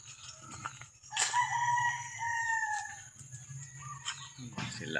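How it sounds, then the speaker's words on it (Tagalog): Chickens and ducks cluck softly nearby while a rooster crows once, loud and drawn out, amid light background bustle of a farmyard. "Bibi at manok."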